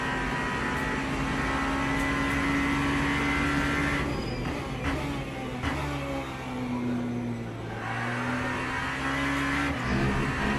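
A big V8 race car engine in Le Mans Ultimate drones steadily with a deep, throaty hum, its pitch rising and falling as it accelerates and shifts.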